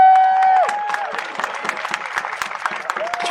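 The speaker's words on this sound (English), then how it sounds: "Round of applause for Shahed." An outdoor crowd at a protest rally in front of the Canadian parliament claps and cheers, a sustained spattering of applause following a brief held tone at the start, fairly loud and steady to the end.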